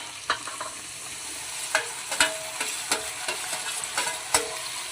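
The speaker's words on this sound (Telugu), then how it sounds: "చూడండి, ఉల్లిపాయలు ఇలా వేగాలి." Onions and potatoes fry in a pan as a spoon stirs them, giving a steady sizzle broken by a series of irregular scraping and clacking strokes, close and moderately loud.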